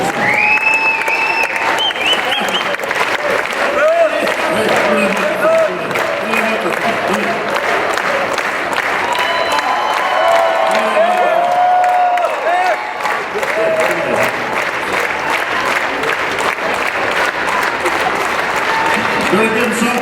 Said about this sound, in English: We get some rhythmic clapping going on here.